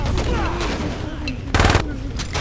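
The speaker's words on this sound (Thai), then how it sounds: "เฮ้ยยิงอะไรเนี่ยตกใจ" Gunfire in Saints Row 2: a short burst of rapid shots cracks out loud near the middle, over a busy game soundtrack with voices talking throughout.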